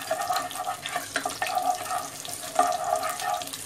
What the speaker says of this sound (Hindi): तो हम इसमें तड़के में डाल रहे